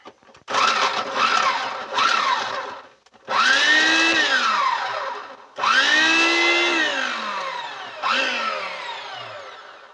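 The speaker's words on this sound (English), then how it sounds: "Drop that in our food processor and give it a spin and get that good and minced up." A food processor mincing garlic runs in four separate bursts, each starting with a rising whir and a loud motor-and-blade roar that winds down in pitch between pulses.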